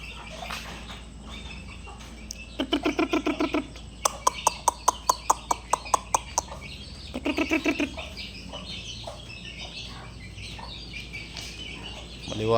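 Bastonero chicks in a backyard pen peep in quick bursts of rapid, regular cheeping, fairly near, separated by quieter stretches of low background hum.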